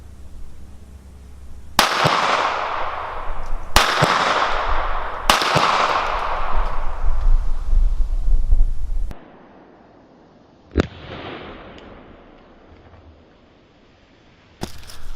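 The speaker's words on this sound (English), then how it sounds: "we're going to try to nail that with this 22 pistol." A Smith and Wesson Victory .22 pistol fires at a distant target on an outdoor range, with four sharp shots spaced a second or two apart, then a pause before two more isolated shots.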